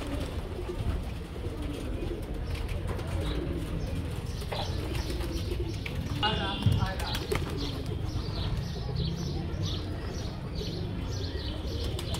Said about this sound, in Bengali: এখানে অসংখ্য অসংখ্য কবুতর আছে